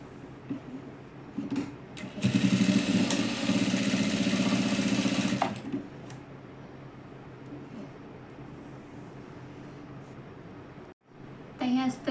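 Electric sewing machine stitching a seam on a side-cut dress, a steady whirring run of about three seconds, loud and close, with someone talking before and after.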